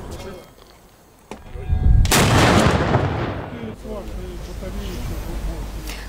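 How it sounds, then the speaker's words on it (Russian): A single loud cannon blast fired at noon from the Peter and Paul Fortress in St. Petersburg for Defender of the Fatherland Day, a sharp boom with a long rolling echo that dies away under background crowd and street noise. "полуденный выстрел пушки Петропавловской крепости"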